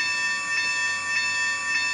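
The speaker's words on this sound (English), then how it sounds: "I get the bell." A sound module on a radio-controlled model train locomotive rings an electronic bell, steady repeated dings at an even pace, clear and alone.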